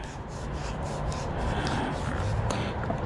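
Plastic cuff being screwed counterclockwise onto a swimming pool vacuum hose, making a continuous close rubbing and grinding scrape with a few small clicks, no talking.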